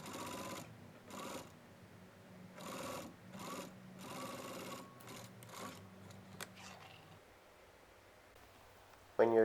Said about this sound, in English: Then you sew it onto it.